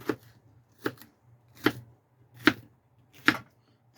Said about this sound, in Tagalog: hiwa-hiwain naman natin itong ating sangkap